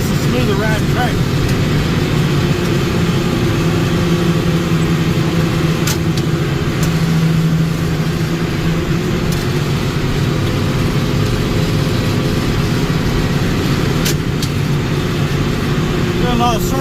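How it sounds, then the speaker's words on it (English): Riding lawn tractor engine running steadily through spring mowing of a small strip, a constant close drone from start to finish with a few brief clicks and knocks on top. "at least it's a smoother riding tractor"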